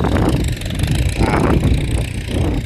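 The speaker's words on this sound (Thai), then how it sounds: "รถไถฟอร์ด" A Ford 6610 single-axle tractor engine runs at close range during ploughing in a rice paddy, a steady low rumbling drone with continuous mechanical chatter and no talk over it.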